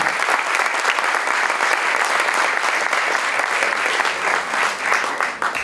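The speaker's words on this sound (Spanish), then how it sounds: "los recibimos con un gran aplauso a Pablo Caruso y Eduardo Liberti." A crowd applauds steadily, dense clapping filling the room without pause, loud and close throughout.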